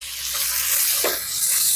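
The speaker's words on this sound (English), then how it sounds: "All right, got that beautiful sizzle going on." Bacon and onions sizzle steadily in a hot pan, a bright continuous frying hiss with a brief stir partway through, close and fairly loud with no talking.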